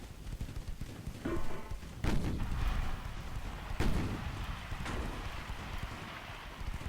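Naval guns firing in the warship video game Ultimate Admiral: Dreadnoughts, several heavy booming blasts spaced a second or two apart over a constant windy sea rumble, loud and close.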